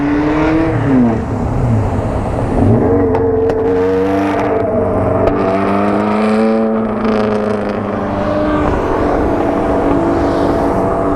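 Engine note of a passing GT4 race car, revving hard as it swells up and sweeps by nearby with rising and falling pitch, over steady background noise with no talking.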